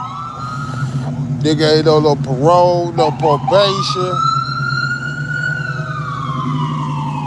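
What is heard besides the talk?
ambulance siren passing outside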